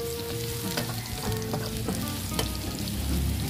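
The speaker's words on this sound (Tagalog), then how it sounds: "Tutuloy lang po natin saglit yung ating luya para lumabas yung aroma" Ginger sautéing in a hot pan gives a steady, dense sizzle with light stirring scrapes throughout. No one speaks.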